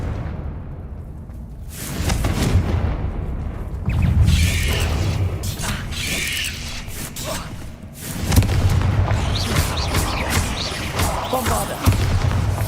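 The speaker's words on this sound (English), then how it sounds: "Confringo!" Confringo blasting spell explosions in Hogwarts Legacy: heavy booming blasts with whooshing magical bursts, several loud impacts recurring across the stretch over a dense layer of game sound.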